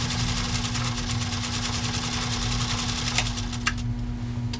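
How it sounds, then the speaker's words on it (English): A 1942 Singer 201-2 sewing machine stitching through eight layers of heavy-grade denim, a close, steady rapid mechanical chatter with an underlying motor hum and a couple of sharper clunks near the end. "8 layers of heavy grade denim with this Singer"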